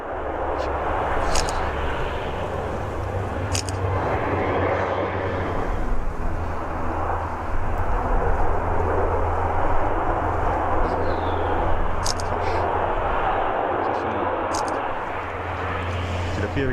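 Firefighting aircraft drone steadily overhead during a wildfire water drop, a loud continuous engine roar with a few faint clanks on top.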